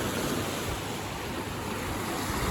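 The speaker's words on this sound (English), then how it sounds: "These waves are starting to get fucking massive" Large ocean waves breaking on a beach at Newport, a steady loud roar of surf and rushing water with wind buffeting the microphone throughout, no voices.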